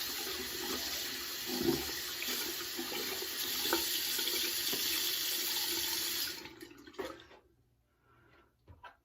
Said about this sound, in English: I'm going to go ahead and rinse my hands off just here a little bit.